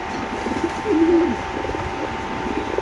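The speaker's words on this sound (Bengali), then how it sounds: "এখানে আছে আরেক জোড়া কবুতর" Low, throaty pigeon coos close by at a pigeon farm, a soft rolling call rising and falling over a steady background hum.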